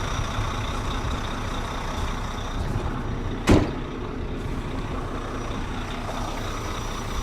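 A tractor-trailer truck idles steadily as it backs under a trailer, with one sharp hiss of air released from the air suspension partway through, then the engine rumble continuing alone.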